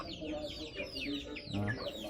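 Chickens cluck softly and continuously at close range around feeding time, a low busy murmur of short calls with a slightly louder burst near the end.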